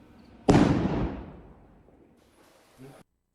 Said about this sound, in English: An Israeli soldier approaches a mosque near Ramallah just before Friday morning prayers, throwing a sound grenade inside.